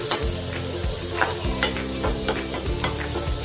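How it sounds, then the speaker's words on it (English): Steady sizzle of onions frying on a low-medium flame, with a utensil stirring and scraping through the pan in irregular strokes, close and fairly loud, no talking. "Just keep frying until low medium flame until it's light brown."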